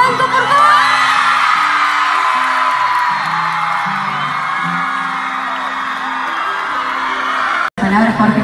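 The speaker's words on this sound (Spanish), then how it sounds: "quiero que lo reciban con un muy fuerte aplauso" A crowd welcomes Jorge Blanco with loud whoops, yells and cheering, sustained at close range for about eight seconds before cutting off abruptly near the end.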